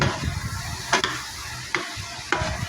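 Cabbage and scrambled egg stir-fried in a pan, with a steady sizzle and a few sharp scrapes of a utensil against the pan spaced through it, close and fairly loud, with no voices.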